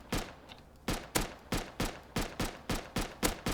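An M39 rifle in the Rust video game fired rapidly in a quick series of about ten sharp, evenly spaced gunshots, loud and close, with no voices.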